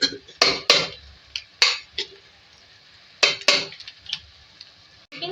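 Vegetables being stirred in a cooking pot for a mixed street-style sabzi, with sharp spoon-on-metal clanks and scrapes coming in irregular bursts, close and fairly loud, with no talk.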